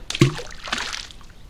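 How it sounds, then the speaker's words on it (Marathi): A stone strikes the water in an old rock-cut cistern on Siddhagad fort, one sharp close plop followed by a brief splashing slosh that quickly fades. "इथे त्याच्यामधलं पाणी पण खराब झालं आहे हे आपण दगड टाकून बघूया"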